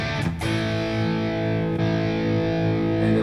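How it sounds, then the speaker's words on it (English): An electric guitar played through the Gold Drive distortion setting of a Flatsons KMF-1 multi-effect pedal rings out with a sustained, thick overdriven chord, restruck once partway through, loud and alone. "Let's see here, we got Gold Drive."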